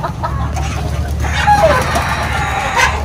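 Chickens cluck busily at a breeder farm while a rooster crows once nearby, over a constant low background hum.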